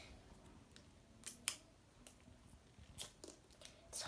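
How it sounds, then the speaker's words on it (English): Plastic zipper packaging of a Pygmy Pops toy being worked open by hand, giving faint scattered crinkles and sharp little ticks and snaps at irregular moments. "let's like try to unwrap this zipper"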